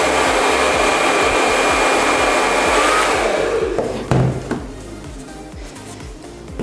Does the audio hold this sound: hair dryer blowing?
yes